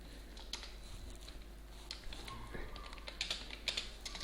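Rapid, irregular key clicks of Java code being typed on a computer keyboard, close and fairly quiet, in short bursts with brief pauses.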